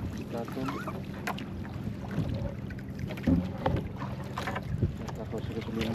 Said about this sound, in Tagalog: Yung tunog ng makina niya.